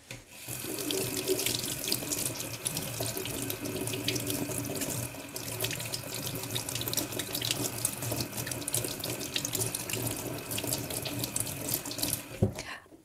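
Tap water runs steadily into a sink while watercolor paintbrushes are rinsed, a continuous close splashing rush with slight changes as the brushes move under the stream.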